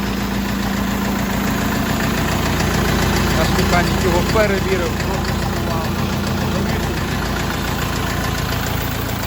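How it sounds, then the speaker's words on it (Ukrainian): An Orion 404 40-horsepower mini tractor engine idling steadily with an even, rumbling chug throughout while someone talks over it. "Двигун працює ідеально рівно на 40 кінських сил"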